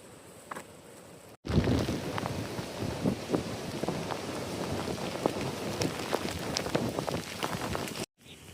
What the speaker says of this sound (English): We are taking pretty heavy rain right now.